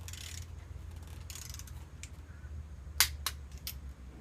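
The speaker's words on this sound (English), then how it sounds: "So I'm going to set it up for 16 foot-pounds. And we're going to torque that down." A torque wrench tightens a bolt to 16 foot-pounds on a 2002 Mazda 626 during EGR repair, giving a few sharp clicks near the end over a low steady hum, with faint scraping earlier.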